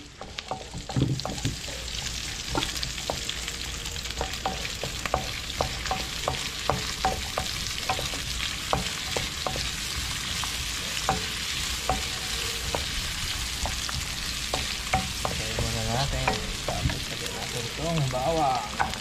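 Plenty of onions sauté in hot oil in a pan, a continuous sizzle broken by many sharp spoon taps and scrapes through the stretch; a faint voice is briefly heard.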